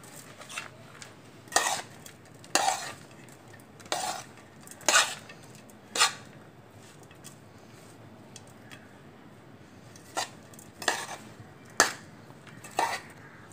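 Spices being mixed for pakoras in a bowl, giving a series of sharp clinking and scraping knocks of utensil against bowl at irregular intervals, close and moderately loud with no talking.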